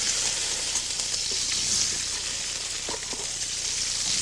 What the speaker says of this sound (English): put in a handful of vegetables now out of our draining pot and saute them in the garlic oil